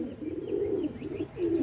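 A black Saharanpuri pigeon, a single male, coos close by in a steady low throaty burble that swells and dips continuously, with no talking over it.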